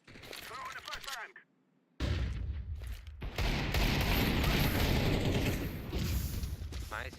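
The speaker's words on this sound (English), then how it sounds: "Throw the flashbang." Flashbang blast and gunfire in a shooter video game: a loud sudden burst after a brief near-silence, then dense, sustained crackling shots and booms running to the end, with some voice-like sound underneath.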